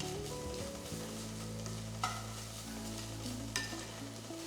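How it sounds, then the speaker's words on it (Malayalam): A coconut and sugar mixture for unnakaya is stirred in a hot pan, soft sizzling under steady scraping with a couple of sharper clinks of the utensil against the pan. "നന്നായിട്ടൊന്ന് മിക്സ് ചെയ്യുക."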